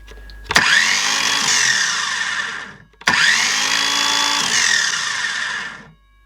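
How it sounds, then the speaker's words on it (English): A fake Makita brushless power tool runs in two close, loud bursts of about two and a half seconds each, whirring up to speed, holding steady, then winding down, with no talking. "Certainly sounds nice. I think this is a brushless."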